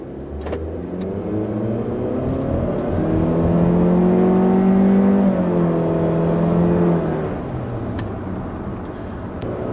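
A 2016 Honda Civic Touring 1.5-litre turbo engine hums steadily from inside the cabin, rising in pitch as it accelerates, holding briefly, then easing off with a few faint clicks.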